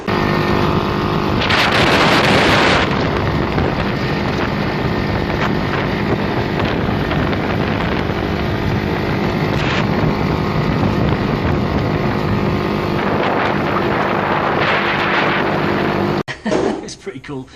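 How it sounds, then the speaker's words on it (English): A small rented sand buggy drives through the desert, its engine a loud, continuous drone buffeted by heavy wind noise before cutting off abruptly near the end. "This is us like driving through the desert."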